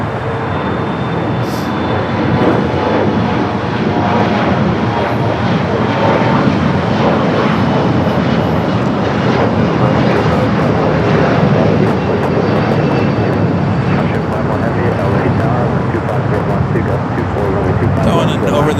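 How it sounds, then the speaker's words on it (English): An American Airlines Boeing 787 Dreamliner at LAX Terminal 4 fills the air with a loud, steady jet-engine roar, broadband and unbroken from start to finish. "Over this American Dreamliner of the Terminal 4."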